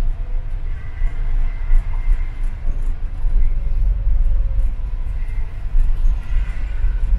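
A low, continuous rumble of a train rolling overhead at Cannon Street station in London, steady and heavy with faint rattling, heard from below on a bus.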